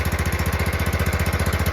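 A small engine idles with a fast, steady pulsing putter, loud and close, running evenly on its own without talk.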